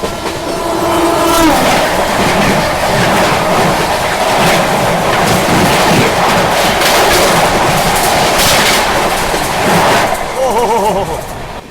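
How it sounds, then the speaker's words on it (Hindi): A Nilanchal Express train passes on the opposite track, heard from inside a moving train near Kanpur: a loud, continuous rush of rolling wheels and wind that swells through the middle, with rail clatter running throughout. "सामने से आ रही है नीलांचल एक्सप्रेस"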